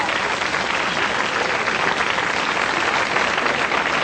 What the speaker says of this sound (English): Let's give her a round of applause to get her up here.